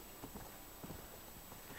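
Donkey hooves walking in Red Dead Redemption, a faint, slow clip-clop of a few hoof falls over a steady background hiss.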